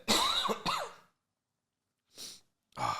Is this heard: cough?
yes